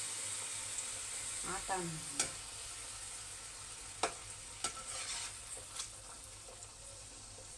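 Flattened adhirasam dough fries in hot oil with a steady, fairly quiet sizzle, punctuated by a few sharp clicks and taps, and a brief voice near the start.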